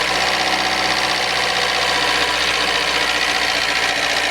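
A Toyota RAV4 with a 1AZ engine runs at held mid revs, giving a steady loud, dense mechanical roar with a knock in the engine, close by and without talk.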